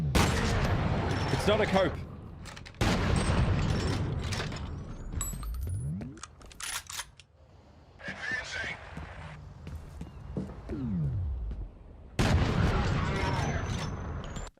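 Pump-action shotgun in a video game fires in slow motion with heavy, drawn-out blasts and mechanical pumping between shots, mixed with game effects while someone talks over it.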